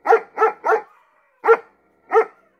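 An electronic keyboard imitates a barking dog: a quick burst of three barks, then two more single barks spaced apart, close and clear with no talk.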